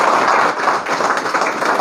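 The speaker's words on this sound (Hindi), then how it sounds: "मैं चाहता हूं एक बार अरुण कुमार शर्मा सर के लिए जोरदार ताली।" An audience bursts into loud, dense applause, a continuous roar of many hands clapping close by for nearly two seconds.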